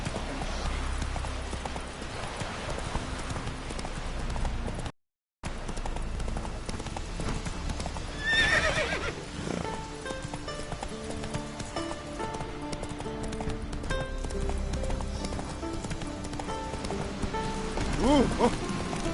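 Geralt's horse Roach galloping in The Witcher game, a steady rapid run of hoofbeats over a low rumbling game soundscape with a brief dropout near the middle.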